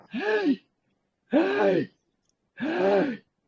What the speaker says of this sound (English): so you're breathing in with that sound.